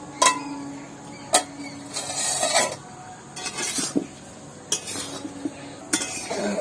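A metal pot lid comes off a pot of boiled cauliflower with sharp clinks and scrapes, several distinct metallic knocks spaced across the clip amid quiet kitchen rustling.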